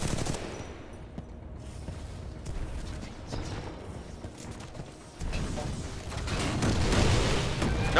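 Rapid gunfire in the shooter game Titanfall 2, dense continuous bursts and booms building louder toward the end, a busy mix of weapon fire and action noise.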